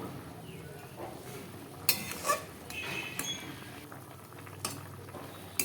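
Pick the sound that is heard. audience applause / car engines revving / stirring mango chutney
stirring mango chutney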